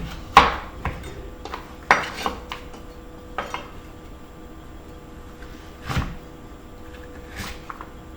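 Knife cutting butternut squash into roughly one-inch cubes on a cutting board; sparse, irregular sharp knocks of the blade hitting the board, close by, with short pauses between cuts.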